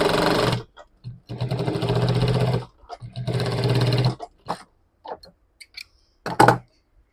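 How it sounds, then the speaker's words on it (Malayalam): An electric sewing machine stitches a zip onto a mother bag, running in loud bursts of rapid whirring stitches separated by pauses and softer handling clicks. "അപ്പം ഇങ്ങനെയാണ് നമ്മൾ സിബ് അടിക്കുക."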